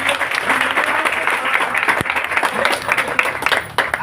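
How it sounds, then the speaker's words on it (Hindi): A large audience claps loudly and steadily for a guru, dense continuous applause with a few sharper claps standing out, close and sustained throughout. "मैं चाहता हूं एक बार दमदार वाली तालियां इस गुरु जी के लिए।"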